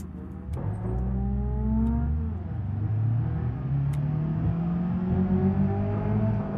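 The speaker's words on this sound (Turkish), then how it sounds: "Bizim arabanın sesi mi yükseldi?" A Toyota Corolla engine in BeamNG.drive drones steadily with rising and falling pitch as it revs through gears, a continuous synthetic-sounding motor hum with no talking.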